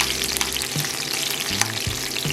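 A small batch of onions frying in hot oil for street tacos, a steady close sizzle with occasional scraping and stirring knocks from a utensil and no voices.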